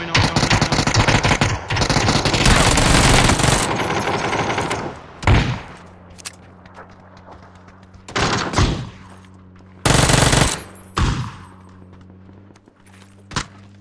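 Bursts of automatic gunfire from the battle-royale video game PUBG during a squad match, a long dense volley followed by shorter separated shots and rattles, loud and close with quieter game ambience between.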